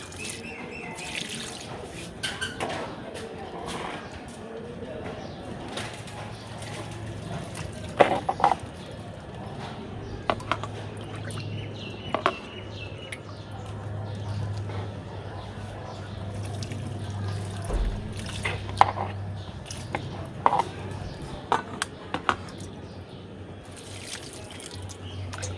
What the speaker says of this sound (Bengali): জানো তো, চাল ধোয়া জলগুলো দিলে গাছে।